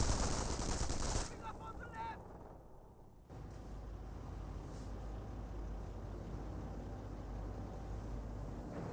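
Machine gun fire rattles in a Company of Heroes 1 battle, with upgraded .50 cal Sherman tanks and an MP40 firing at close range, a dense continuous burst of gunfire and rumble running throughout with a commentator's voice over it.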